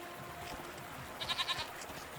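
A goat in the video game Season: A Letter to the Future gives one short, wavering bleat of several quick pulses, heard clearly over a quiet ambient background.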